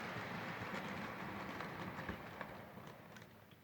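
An OO gauge Lima BR216 model locomotive runs along track with a faint, soft rolling rumble and light clicking over rail joints, slowly fading as it moves away.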